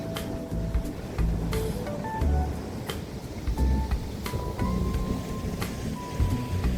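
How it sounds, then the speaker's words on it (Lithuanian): Outdoor rain falls steadily in a garden setting, with low rumbling and scattered sharp tapping of drops nearby throughout. "lietinga."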